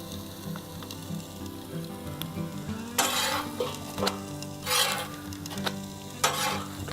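Tortillas fry on a Blackstone griddle with a steady close sizzle, broken by several louder bursts of stirring and scraping that flare and fade about every one to two seconds.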